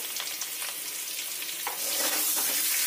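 Potatoes salted and dusted with turmeric frying in a home kitchen pan for biryani, a steady close broadband sizzle with soft stirring scrapes that swells louder and denser in the final second.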